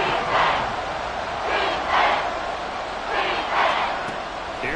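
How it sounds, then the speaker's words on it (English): A football stadium crowd cheers before a big third down, a loud, constant roar that swells in rhythmic waves like a chant. "The crowd getting into it as we come up on a big third down."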